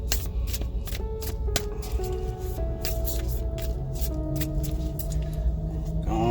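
Tarot cards are shuffled by hand at close range, a quiet run of crisp riffling flutters and soft slaps repeating in quick bursts, with faint tones sounding in the background.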